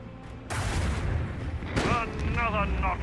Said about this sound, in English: Another notch on the macro cannon.